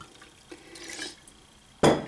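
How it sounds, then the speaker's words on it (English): Vodka pours in a faint, thin trickle into a glass mason jar, ending with a sudden louder clink and splash near the close. "you just pour your vodka in, and you want to get it almost to the top."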